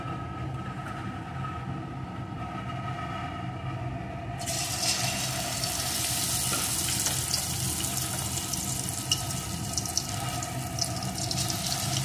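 Marinated chicken dropped into hot oil in a wok for a restaurant-style chilli chicken, a broad, steady hiss that swells louder partway through and keeps rushing without pause.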